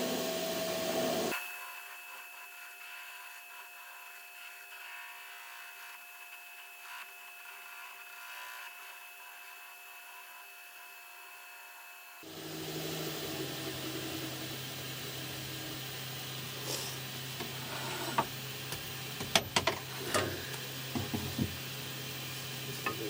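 A wood lathe spins a tool handle while its end is trimmed and sanded, a steady motor hum with broad hissing friction noise that grows louder partway through, plus a few scattered scraping clicks near the end.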